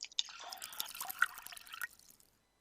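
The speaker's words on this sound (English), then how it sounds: "Then we're gonna pour a specific volume of hot water into the cylinder," Hot water is poured into a measuring cylinder and beakers during a school physics heat-transfer practical, with close, light dripping and trickling that fades out after a couple of seconds.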